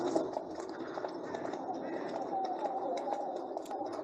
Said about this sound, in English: We're traveling by horseback on the Peekaboo Loop Trail,